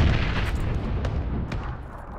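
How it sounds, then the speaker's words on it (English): A frag grenade blows up in a video game, heard as a loud, rumbling boom that fills the clip and slowly fades, with no voices. "Throwing frags now downhill."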